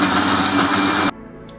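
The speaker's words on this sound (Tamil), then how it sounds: "நம்ம இதை அரைச்சிக்கணும்." A loud, steady motorized whirring of a mixer grinder runs for about a second, then cuts off abruptly, leaving quiet room noise.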